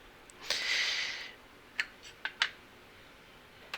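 A 2-inch square cutter presses through a rolled sheet of polymer clay, giving a close, soft scraping push of under a second followed by a few sharp clicks and taps in a quiet room.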